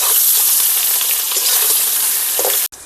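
Potatoes lightly salted and frying in a pan of oil that was already used for frying, a loud, dense, steady sizzle heard close up without talk, ending in an abrupt cutoff.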